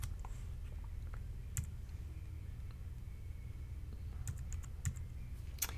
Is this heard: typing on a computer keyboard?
yes